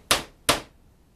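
Two sharp thuds as an RC axle shaft from a Maxstone 10 is tamped down onto a desk to push a bearing off, evenly spaced, close and crisp, with no talking.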